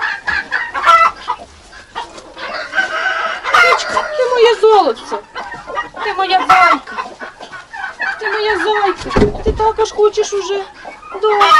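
Brooding hens being lifted off their eggs cluck and squawk loudly and close by, in a near-continuous run of agitated calls, while someone talks over them.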